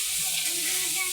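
Chickpeas fry in a huge wok holding about 20 kg of oil, giving a steady, dense hiss and crackle that stays at an even loudness throughout, with no voices.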